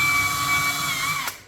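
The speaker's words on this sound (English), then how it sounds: "pre-drill" A power drill pre-drills pilot holes in wood, its steady high whine running loud and close for over a second before spinning down, with a brief scrape near the end.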